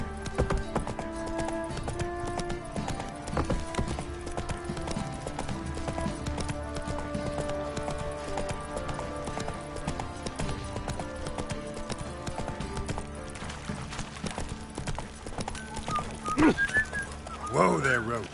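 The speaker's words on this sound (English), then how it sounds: "Whoa there, Roach." Hoofbeats of the horse Roach in The Witcher 3 game, a steady clip-clop running through the whole stretch under music and voices talking, with a brief whinny near the end.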